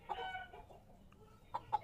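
A pet chicken clucks and crows briefly, first in a short burst and then in two sharp calls near the end, fairly close against quiet background noise.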